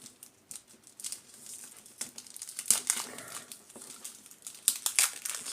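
Crinkly tearing and rustling of a 1991 Topps Stadium Club card pack wrapper being ripped open, close and quiet, in irregular bursts over several seconds.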